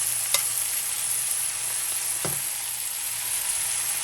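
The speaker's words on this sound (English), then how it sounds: "So we're going to saute them for like 5 minutes" Mushrooms and vegetables sauté in a pan with a steady, bright sizzle, broken by a couple of soft clinks from a utensil, close and moderately loud, with no talking.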